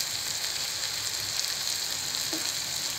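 Jackfruit seeds frying with ground cumin, pepper and chilli powder give a steady, close sizzle that holds without a break, with a soft stir scrape near the end.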